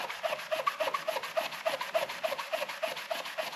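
Hand sanding a cast planer base with 80 grit sandpaper makes a rhythmic rasping, with quick back-and-forth strokes repeating evenly at close range.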